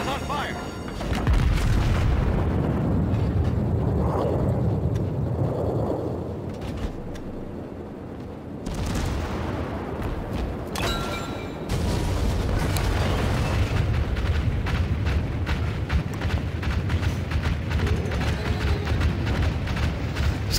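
Shells and bombs strike a Yamato battleship in a naval video game, rolling booms and blasts stacking into a dense, continuous roar with a brief lull near the middle, while a voice talks faintly underneath.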